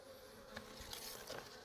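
Honey bees buzz softly at a small hive box while being readied for winter, a faint continuous drone with a few individual bees passing close.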